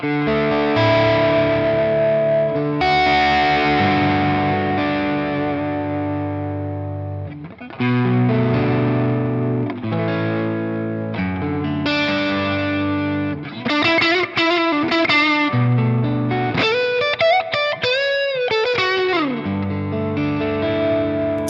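Distorted electric guitar through a Valeton GP-200 with the noise gate off plays sustained chords and bending lead notes, a thick fuzzy tone ringing on without cutting off between phrases.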